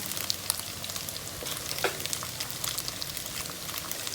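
Eggs fry in the middle of a pan of pad thai, giving a moderate, even sizzle with scattered pops and crackles and one small clink, no speech.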